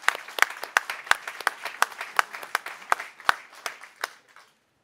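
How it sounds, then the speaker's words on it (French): A small audience at a municipal New Year's greetings ceremony claps in scattered, uneven beats for about four seconds, then the clapping thins out and stops. "On peut les applaudir."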